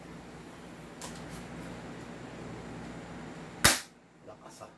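An airsoft gun fires a single sharp, loud shot through a chronograph after a low steady hum, followed by a short fading rattle.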